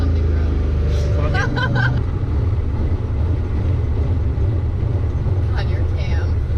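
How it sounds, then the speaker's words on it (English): Loud, deep engine drone from a heavily modified car with side exit exhaust, rumbling steadily at close range while people talk inside the cabin. "It's so noisy. It's side exit exhaust."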